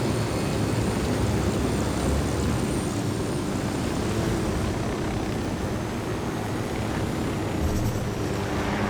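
A helicopter flies in the video game Ghost Recon Wildlands, giving a constant heavy roar of engine and rotor wash that stays steady and unbroken throughout, with no voices.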